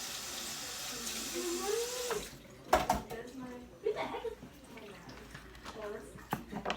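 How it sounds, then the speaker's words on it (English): Tap water runs strongly as hands are washed at a kitchen sink, with a steady hiss that stops partway through, followed by a few dishware clinks and quiet talking. "Just going to wash my hands."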